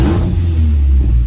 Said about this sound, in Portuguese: Já tá com o escape direto, então, ó.